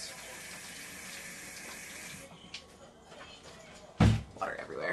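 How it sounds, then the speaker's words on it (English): A sink tap runs steadily as hands are washed in a home kitchen, a continuous close hiss that stops partway, followed by a few clunks and a loud knock. "Let me wash my hands really fast."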